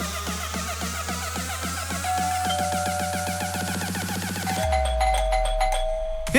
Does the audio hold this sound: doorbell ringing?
yes